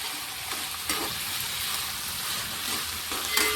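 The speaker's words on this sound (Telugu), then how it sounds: "క్యారెట్, క్యాబేజ్, కొత్తిమీర ఇవన్నీ వేసేసి ఒక్కసారి కలిపేసుకుందాం." Carrot, cabbage and coriander fry in a pan with a dense, even sizzle, close and fairly loud, broken by a few soft scrapes of stirring and no voices.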